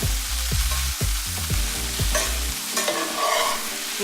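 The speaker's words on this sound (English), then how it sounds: "The idea is to keep adding broth while the kale is cooking, all the way until it's done." Kale cooks in broth in a pan while a utensil stirs it, giving rapid rhythmic scraping strokes over a soft sizzle, close and fairly loud, with no voices.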